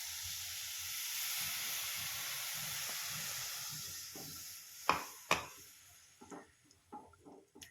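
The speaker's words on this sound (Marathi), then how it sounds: "आता पाणी टाकते." A hiss and steady sizzle rise as water is poured onto roasted besan in a hot pan, fading after a few seconds into sharp clinks and taps of a utensil against the pan.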